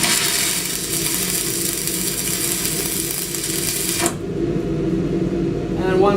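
Tack welding flat bar with a 6010 welding rod produces a loud, steady crackling buzz for about four seconds, then the arc stops abruptly, leaving quieter room noise with a faint voice near the end.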